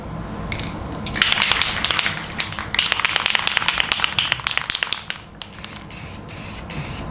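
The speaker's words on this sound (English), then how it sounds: "Alright, so I'm just going to spray the inside of this." Bursts of aerosol spray hiss in short repeated pulses, close and fairly loud, with a brief pause before the spraying resumes steadily.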